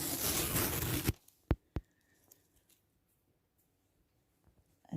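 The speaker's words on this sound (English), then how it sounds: "My last piece of tape is coming off." Tape tearing off quilt fabric as the last strip is removed, a loud ripping rush followed by two sharp snaps, then near silence with faint handling noises and a brief rustle at the end.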